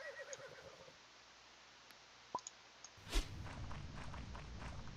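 Loud hoof footsteps of a horse in the Roblox video game, a steady low thudding stream that starts partway in and continues to the end, with a soft whinny and faint game ambience earlier.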